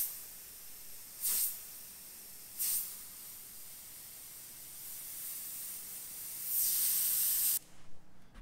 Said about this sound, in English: It's definitely spraying nicer with that air cap removed.